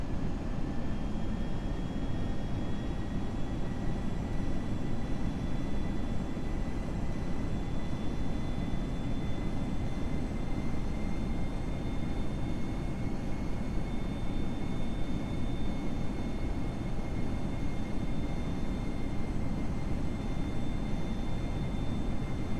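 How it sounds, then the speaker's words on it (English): An Airbus A320 landing in the Prepar3D flight simulator, a loud steady jet engine roar and airflow rumble with faint tonal whines, continuous throughout on final approach with flaps full. "Flaps full. And we are now clear to land."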